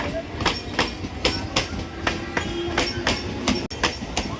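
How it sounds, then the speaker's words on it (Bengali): A train rolls past close by a platform at Uttarpara, its wheels clacking over rail joints in a steady repeating rhythm with a constant rumble underneath. "ট্রেন যাচ্ছে সব"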